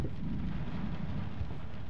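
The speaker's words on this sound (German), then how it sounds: "Und draußen regnet es auf einmal wieder." Steady, dense rain hiss in the video game Layers of Fear fills the whole stretch, a continuous wash of falling drops with a low rumble underneath and no voices.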